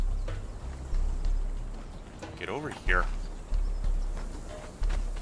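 Horse hooves clip-clop in the Conan Exiles video game, a few soft periodic thuds under the player's talk, with a brief chirpy call in the middle.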